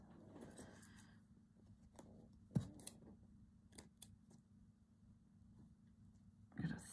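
Scissors snipping through quilting fabric in a few sharp, close clicks amid quiet handling rustle, faint and sparse in a quiet room.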